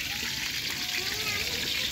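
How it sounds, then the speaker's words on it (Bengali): Dal (lentils) bubbling and spluttering in a cooking pot, a steady sizzling hiss with soft pops and gurgles, close and continuous throughout. "এই যে ডালের পটরা মারতেছে"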